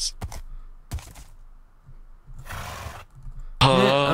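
Horse neighing in the Minecraft video game, a loud strained whinny bursting in at the end after a few scattered thumps and a brief noisy rush of game sound.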